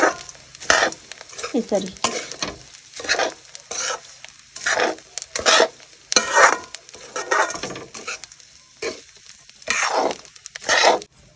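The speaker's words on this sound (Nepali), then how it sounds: "त्यो चाहिँ हामीले एकैचोटि मिक्स गरेर एकदम लो हिटमा मजाले चलाउने" Coconut, cashews, raisins and almonds are stirred in a pan over low heat, with repeated scraping and rustling strokes and a faint sizzle; a voice speaks briefly.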